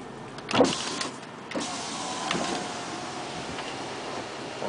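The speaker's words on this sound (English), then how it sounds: "the power moonroof, let's go ahead and operate that now" A click, then a smooth electric motor whirs steadily for several seconds as the power moonroof of a 2007 Land Rover LR3 HSE slides open inside the quiet car.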